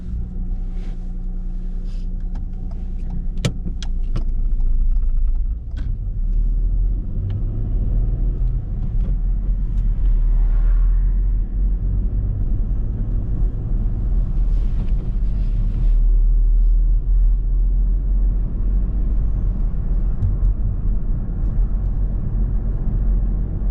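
A car drives steadily during a mock driving test in Shirley, Birmingham, with a continuous low engine and road rumble heard from inside the cabin and a few faint clicks and knocks, with no talking.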